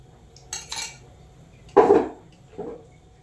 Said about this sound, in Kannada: ಸೊ ಈಗ ಇದನ್ನೆಲ್ಲ ಹೀಗೆ ಮಿಕ್ಸ್ ಮಾಡ್ಕೊಳ್ತಾ ಇದ್ದೀನಿ